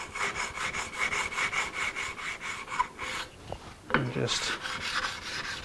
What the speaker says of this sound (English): So I'll just take my sanding block now